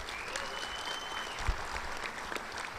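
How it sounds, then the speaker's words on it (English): An audience at a softball hall of fame induction ceremony applauds, a steady mid-distance wash of clapping from a crowd, with no voices over it. "Let's give Cody a round of applause for the great job she's done putting this together tonight."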